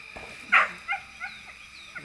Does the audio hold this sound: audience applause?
no